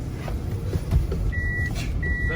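Two high electronic reversing beeps sound at a steady interval over a low rumbling vehicle engine.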